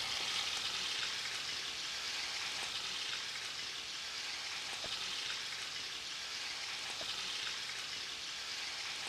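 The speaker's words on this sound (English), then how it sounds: "So she puts all the meat in, and it takes a while for this to brown" Meat browning with onions in a frying pan gives a faint, even sizzle, a steady crackling hiss with occasional small pops and no talking.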